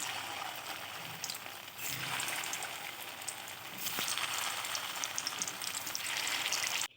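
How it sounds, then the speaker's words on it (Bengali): Chhana bora, cottage cheese fritters, fry in hot oil with a continuous close sizzle and crackle that holds steady throughout, with no talk. "এবার আমি ওই তেলে অপর বড়াগুলো আমি এইভাবে ভেজে নেব।"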